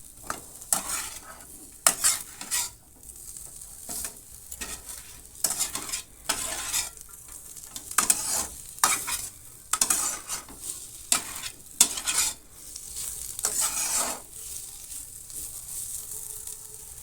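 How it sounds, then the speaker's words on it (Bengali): Fried paneer being stirred gently into a sizzling paneer roll filling in a pan, with repeated spatula scrapes in an uneven rhythm over a steady close frying hiss. "ভেজে রাখা পনির পনিরটা দিয়ে হালকা হাতে মিশিয়ে নিতে হবে"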